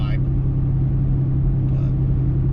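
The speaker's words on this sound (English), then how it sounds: "The exhaust is super loud because it's a 4-inch straight pipe." A 6.7 Cummins truck's exhaust through a 4-inch straight pipe, heard from inside the cab in traffic as a steady loud low drone, with brief noise bursts at the edges.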